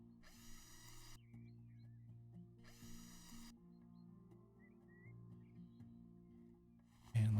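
Furniture being bolted together in the House Flipper video game, two short drill-like whirring bursts with faint clicks between them over a quiet low background hum.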